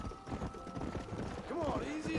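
Horse hooves clip-clopping at a steady walking rhythm in the video game Red Dead Redemption, moderately loud under someone talking in Portuguese.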